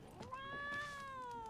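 A cat meows in The Witcher 3, a single drawn-out, rising-then-falling meow heard clearly and close, with faint game ambience beneath.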